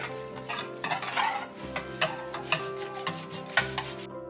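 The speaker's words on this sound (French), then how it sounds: "on vient bien mélanger pour être sûr de diluer les paillettes et qu'il n'y ait pas de grumeaux" Homemade laundry detergent being mixed, with soap flakes stirred in a container to dissolve them. A spoon scrapes and clinks repeatedly against the sides in an irregular rhythm, quiet and close, with no talking.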